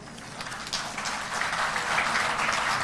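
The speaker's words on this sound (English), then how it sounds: "A huge round of applause for our dynamic session chairs" Conference audience applauding session chairs at an international holistic health conference, a steady crowd clapping that swells slightly and holds for a few seconds.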